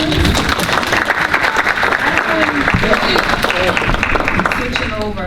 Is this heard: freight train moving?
no